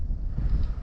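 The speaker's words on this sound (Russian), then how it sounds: "Ну, ветра бы еще не было." Wind blowing across a taiga lake in late winter, a steady low rumbling buffet close to the microphone, unbroken throughout with no voices.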